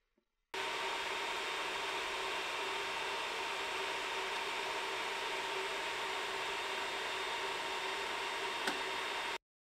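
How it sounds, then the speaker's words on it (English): An Ender 3 3D printer runs with its hotend cooling fan whirring, a steady, even, faint airy hum with a tonal whine that starts abruptly and holds until it cuts off near the end. "I noticed most of the noise now came from the hotend cooling fan"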